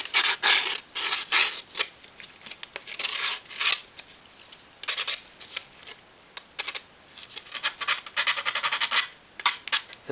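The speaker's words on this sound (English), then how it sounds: "Take the backboard, sand off any tabs," Sandpaper rubs tabs off a wooden backboard in repeated short scratchy strokes, close and moderately loud, with brief pauses between bursts.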